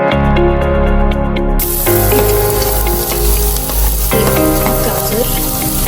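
Onion going into a pan of frying garlic for white sauce pasta, a loud, steady, close sizzle that holds throughout with no talking.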